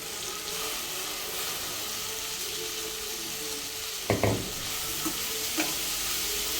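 Masala sizzles steadily as it dry-roasts in a pan, a constant hiss with a few sharp clinks and scrapes of a stirring spoon partway through; no one speaks.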